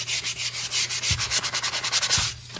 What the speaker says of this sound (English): I'm going by feeling and then just sanding it.